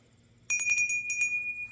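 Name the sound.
Waterford crystal dinner bell in Elena pattern ringing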